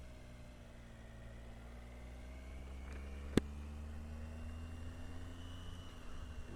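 A Triumph Tiger 800 XC motorcycle engine running with a low steady hum and a faint whine that climbs slowly. One sharp click lands midway, and the whole sound stays quiet and distant.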